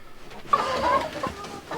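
Hens in a henhouse give a few short, nearby clucks and a drawn-out squawk over quiet background rustle.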